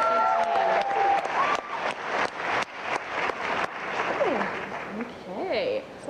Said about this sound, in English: A round of applause for the participants in their physical fitness routine.